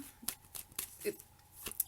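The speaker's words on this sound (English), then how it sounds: "let's see what comes out for you as we shuffle" Soft, quick riffling of a deck of cards during a tarot reading, in several brief flicks with small gaps, close and quiet.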